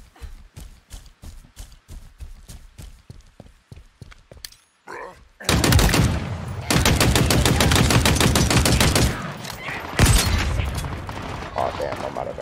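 Halo Infinite campaign combat: a rapid series of single gunshots gives way to sustained loud automatic weapon fire with dense bursts, close and dominant, a burst-like action sound breaking in near the end.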